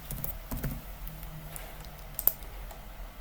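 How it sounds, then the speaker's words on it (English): Soft clicking keystrokes on a computer keyboard in a quiet room, a few short bursts of typing with a sharper tap near the end. "So let's type in elective."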